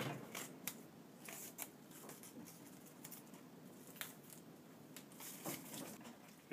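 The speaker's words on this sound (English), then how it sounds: "I'll just take a utility knife and trim that tape off." A utility knife trims double-faced tape stuck to wood in a tenor guitar workshop, producing faint, repeated scratchy cutting strokes in an irregular rhythm, close and quiet, no talking.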